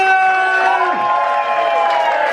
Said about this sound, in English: Boys and girls, let's hear it for FrankieAllen!